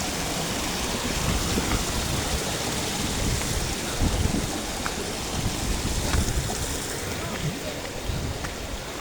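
A cold village river rushes steadily nearby, a broad, continuous wash of flowing water with no pauses, loud and close throughout.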